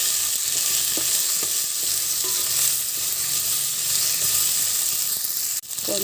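Okra frying in a pan, sizzling loudly and continuously close by with faint stirring clicks and a brief dip near the end.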